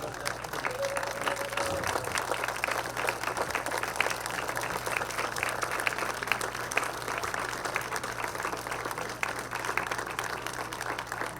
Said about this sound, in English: let's give her a rousing round of applause